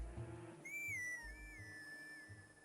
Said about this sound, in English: Link will automatically whistle to get an opponent to come to his position